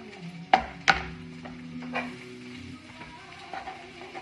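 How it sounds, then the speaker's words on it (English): Chopped onion dropped into a pan, two quick sharp knocks followed by a soft, low sizzle and faint stirring clinks, fairly quiet and close. "Throw that in the pan"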